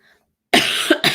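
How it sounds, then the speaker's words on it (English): A single harsh, close cough breaks out after a moment of silence, in two quick bursts. "Residual cough"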